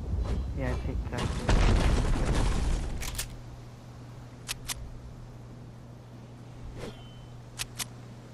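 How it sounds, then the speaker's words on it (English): Gunfire in Fortnite: a dense burst of loud shots and booms early on gives way to a low hum, with a few sharp, separate shots cracking later. "I hear shooting now"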